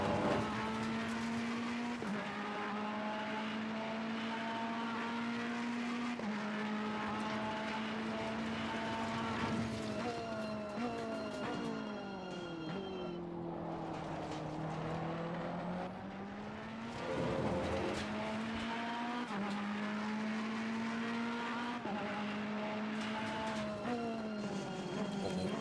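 Ferrari race car in a racing video game sweeping through a fast corner at the Hungaroring, a loud steady engine whine climbing through gear changes and dropping as it brakes, then building again, with no talking.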